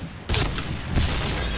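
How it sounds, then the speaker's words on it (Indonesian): Explosions boom in the shooter game Point Blank: two sharp, loud blasts about half a second apart, each leaving a rumbling noisy tail. "Banyak ledakan guys"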